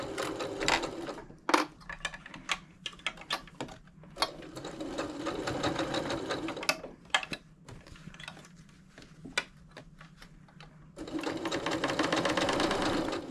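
A sewing machine stitches the seam of a small fabric basket in several short, steady runs, broken by pauses filled with sharp clicks and handling taps. It is close and fairly loud, and no one speaks.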